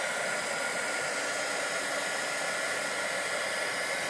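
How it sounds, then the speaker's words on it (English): A heat embossing gun drying saturated watercolor paper blows a steady, loud hiss of rushing air that holds constant throughout, close up and with no talking. "When I was talking about a heat embossing gun, this is what I'm talking about."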